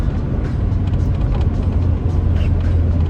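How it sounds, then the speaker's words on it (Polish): Car moving along after a jump-start from a power bank, its engine and road rumble steady, loud and close throughout with no speech. "widzę, że się orzeźwił ten samochód. Jedzie. Jedzie jak trzeba."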